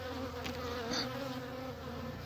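Honey bees buzz steadily in an opened hive, a dense continuous hum with no talk, close and even throughout.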